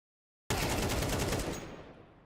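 Rapid automatic gunfire from a Counter-Strike match replay on the Ancient map, a loud dense burst of shots starting abruptly and fading into a short decaying tail.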